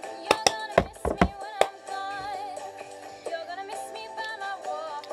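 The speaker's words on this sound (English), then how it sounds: "Just do one clap." In a cup-song routine, a quick run of sharp, close hand and cup hits includes a hand clap, heard over soft background music.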